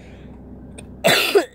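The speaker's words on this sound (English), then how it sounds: "I cough." A single sharp cough bursts out close to the microphone after a quiet stretch, followed by a short second rasp.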